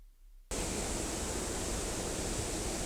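A waterfall pours over rocks in a steady, loud broadband rush that starts abruptly after a brief quiet moment and continues without variation, close to the listener.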